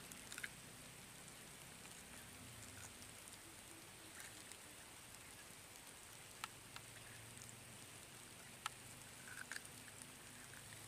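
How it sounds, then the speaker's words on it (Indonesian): Soft, steady patter of light drizzle over a flooded swamp with occasional faint drops tapping nearby, a constant quiet hiss throughout. "Cuaca langsung gerimis coy."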